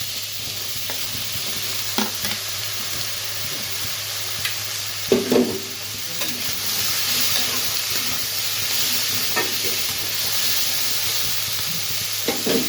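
Potato, pumpkin and eggplant frying with onion in a pan, a steady close sizzle with intermittent spatula scrapes and knocks as the pieces are stirred.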